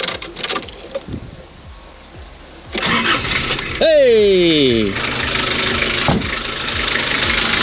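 A car engine, started with jumper cables at a Portugal renovation, cranks and catches with a rising whine, then settles into a loud, steady idle while a voice shouts briefly.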